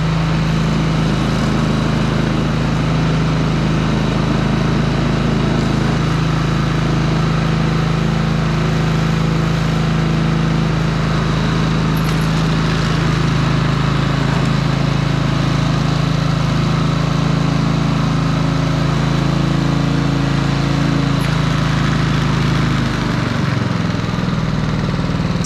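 A Honda Harmony 215 self-propelled lawn mower engine runs steadily and loudly up close, a constant droning hum with no change in pace and only a slight dip near the end.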